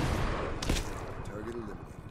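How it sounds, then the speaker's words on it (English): Incoming mortar fire in the video game Medal of Honor, a sharp nearby blast followed by rumbling debris and a fading whistle-like tail. "Mortar inbound."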